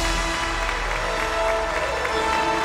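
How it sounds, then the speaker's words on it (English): Audience applause fills a hall at the crowning of Miss Sri Lanka Earth 2018, a steady, dense wash of clapping with crowd noise and music beneath, continuous throughout. "Let's keep the applause coming"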